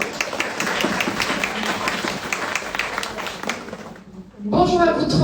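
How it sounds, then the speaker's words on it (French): A conference audience gathered for a talk on ethical, responsible influence applauds its speakers with steady, dense clapping for about four seconds. The clapping then fades and a voice begins speaking. "On peut les applaudir."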